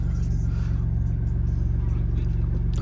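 An Alfa Romeo Giulia GTAm engine idles steadily close by, a deep, even low rumble with a faint regular pulse and no revving throughout.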